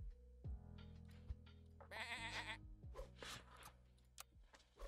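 Sheep bleats from the video game Super Auto Pets, several short wavering cries over steady game music, with someone talking in between.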